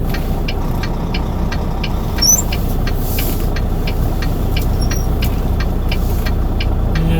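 Semi truck tractor engine idling, a loud, steady low rumble with a regular ticking knock pulsing throughout, close and alone without speech.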